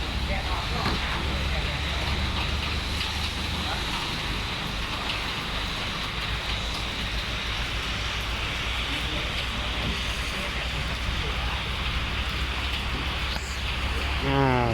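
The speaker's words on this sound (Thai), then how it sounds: "ถ่ายไม่ได้ตอนนี้ฝนตก" Steady rain pours down in a continuous hiss, unbroken and fairly loud throughout.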